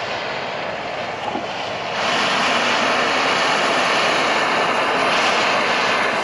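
An ultra-compact backpacking gas stove burner roars with a steady hiss, jumping louder when it ignites partway through and then burning on evenly.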